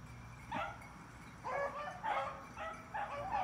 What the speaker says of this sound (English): I got 6 dogs out here this morning.